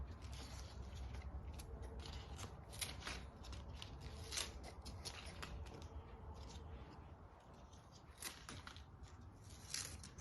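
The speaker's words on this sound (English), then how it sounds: "I go ahead and trim all the leaves and leave a leaf on top of every cutting." Scissors snip leaves off insulin plant cuttings in a quiet room, a run of small crisp cuts and clicks spread across the stretch, close and fairly soft.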